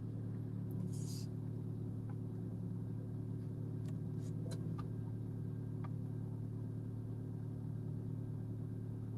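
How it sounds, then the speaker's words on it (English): A car's engine runs steadily, a low constant rumble and hum close by that holds throughout with no talking over it. "My car just kicked on. I thought I heard a noise."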